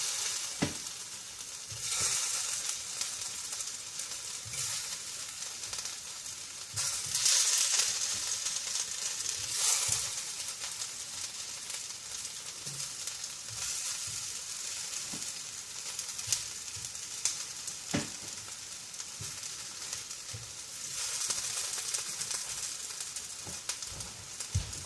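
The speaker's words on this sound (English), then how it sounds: "Just going to pop these in the oil. Not a lot of oil, just a couple teaspoons." Potato gnocchi fry in a couple teaspoons of oil, giving a steady close sizzle with occasional pops and sharper spits, continuous and fairly loud throughout.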